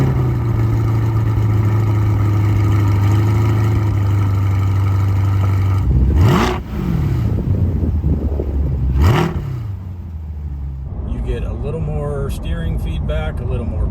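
A C8 Corvette Stingray Z51 engine in sport mode rumbles steadily, then revs sharply twice with rising and falling blips, the exhaust loud and close, with a voice talking near the end.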